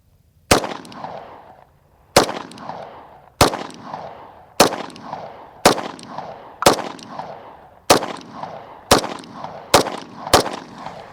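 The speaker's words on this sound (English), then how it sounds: "So we're gonna shoot just like a quick little grouping." A 5.7 pistol with a double-action trigger fires a quick grouping of ten sharp, loud shots, spaced roughly a second apart and speeding up toward the end, each crack trailing into a short ringing echo.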